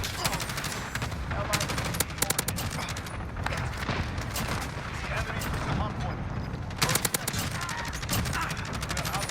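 Rapid bursts of Kilo 141 automatic gunfire in Call of Duty, sustained rattling volleys with a couple of sharper peaks, heard over ongoing game noise at moderate level.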